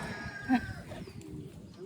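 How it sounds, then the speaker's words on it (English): One brief goat bleat rises above low background rumble on a farm, fairly close but short, with faint noise around it. "having problems with the goats"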